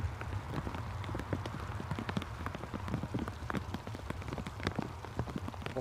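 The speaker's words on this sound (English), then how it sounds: "You can probably hear the sound of the rain on the brolly." Rain patters densely and steadily on an umbrella outdoors beside an airport during a passing shower, a close, irregular tapping of drops with no voices.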